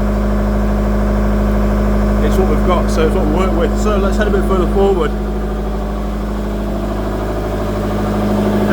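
A modern 8-kilowatt AC generator set runs in a ship's engine room, a loud, steady low hum with a constant drone that fills the space, while someone talks over it for several seconds.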